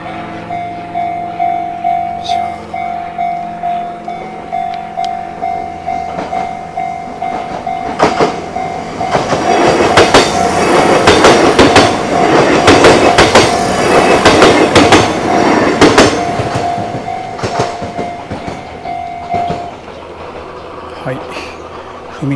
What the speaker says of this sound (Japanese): 近鉄の南大阪線の線路ですね。 今ちょうど電車が来るところです。